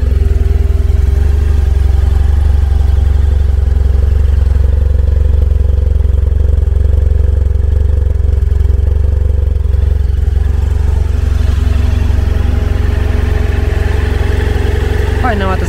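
Harley-Davidson Electra Glide motorcycle engine running steadily at close range, a loud, continuous low rumble with clattering texture, holding through the clip with only slight changes in intensity as the throttle is worked.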